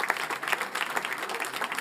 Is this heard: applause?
yes